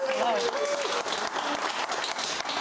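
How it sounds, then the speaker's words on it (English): Studio audience applauding comedian guests on a TV panel show, a dense continuous wash of clapping held at steady loudness throughout, with a faint voice briefly audible over it near the start. "Let's give them a big round of applause."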